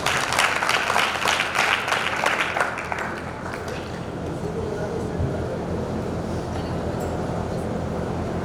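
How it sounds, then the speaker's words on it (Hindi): Loud, dense applause from a crowd at a religious discourse gathering, strongest in the first three seconds and then tapering into a softer, continuous patter. "आप सबकी जोरदार तालियों के साथ"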